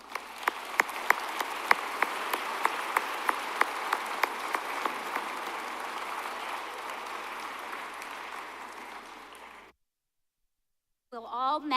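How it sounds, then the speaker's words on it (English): Sustained audience applause at a university commencement honoring graduating students with distinction, a dense crowd of clapping with sharp individual claps standing out, fading out after about ten seconds. "Please join me in applauding these students for their academic achievements."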